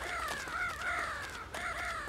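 Crows cawing near a cornfield in the Family Guy video game, a run of harsh repeated caws in two quick bursts, close and clear with no talk.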